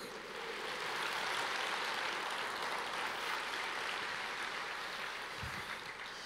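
Church congregation applauding during a sermon, a broad, distant wash of many hands clapping in a large hall, steady and hissy throughout, no speech on top.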